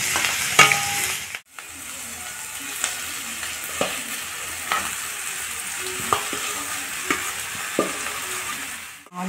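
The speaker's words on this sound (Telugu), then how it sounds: "కొంచెం వేగనిద్దాము ఉల్లిపాయ." Onion with ginger and garlic fries in a pan for a Kadapa karam dosa filling, a steady close sizzle broken by regular scraping stirs every second or so, with no talking.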